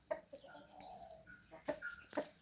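Gamecocks at a Thai fighting-cock farm: faint, short clucks and crowing calls over low background noise.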